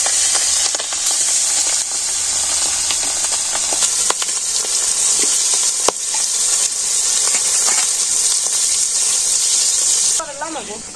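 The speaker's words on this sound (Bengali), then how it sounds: "তার মাছগুলো কড়াইতে দিয়ে দিতেছি।" Salted fish coated in chili and turmeric powder fries in a pan with a loud, steady sizzle and hiss that continues throughout, with occasional light clatters and a voice speaking briefly near the end.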